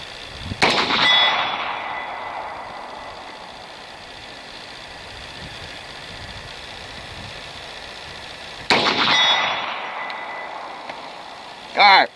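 Two 300 Blackout rifle shots ring a steel target 100 yards away, each a sharp crack followed by a long metallic ring, over steady wind noise, with a final short bang at the end.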